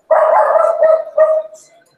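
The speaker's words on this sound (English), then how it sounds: "That dog's loud." A dog barks loudly and close by in one long bark, a pause, then a second shorter bark that trails off, heard alone with no talk over it, in a community setting among buildings.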